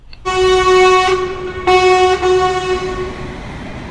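A train horn sounds loud and near, two sustained tonal blasts with a short break between them, the second trailing off into rumble.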